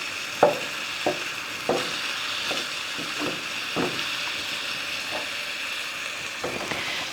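Beef browning in a hot pan, a steady bright sizzle with occasional sharp taps of a utensil scraping and stirring, close and moderately loud, no talking.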